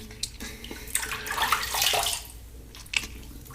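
Tap water runs and splashes while shaving soap is rinsed, a close, uneven trickle that swells into a fuller gush midway, then falls back with a few sharp drips and splashes.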